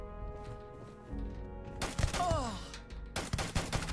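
Gunfire in the Starfield video game, played in survival mode: two sharp bursts of shots, each followed by a spread of crackling noise, over a steady droning game background.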